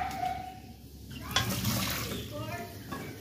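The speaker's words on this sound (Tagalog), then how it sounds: "Lagyan natin ng tubig." Water pouring into a cooking pot in a home kitchen, a steady running splash that shifts in pitch as the pot fills, heard close under a person talking.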